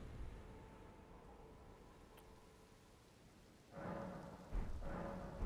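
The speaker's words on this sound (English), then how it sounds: "And it's raining." Steady rain in the video game Elden Ring hisses in the background, then grows louder in the last seconds with a heavier, rumbling wash of downpour.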